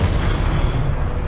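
A Confringo spell blast in Hogwarts Legacy sets off a loud, sustained booming rumble that fills the short moment with no pause.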